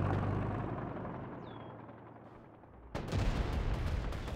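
Gunfire in a WWA RTS real-time strategy war game battle: a distant rumbling barrage fades, then a sudden loud burst of shots and blasts breaks in near the end, with a short whistling tone in between.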